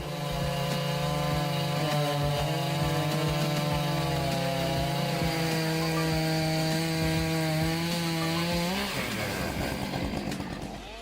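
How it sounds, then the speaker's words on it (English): Husqvarna 592 XP and Stihl MS661 chainsaws cutting through dry wood, a loud, sustained engine whine that holds steady for several seconds before the pitch drops and breaks up into rougher sawing near the end. "the formidable Husqvarna 592 XP and the reigning champion Stihl MS661 easily cut through dry wood"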